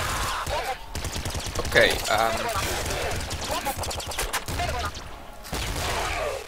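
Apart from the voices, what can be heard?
flak cannon firing in video game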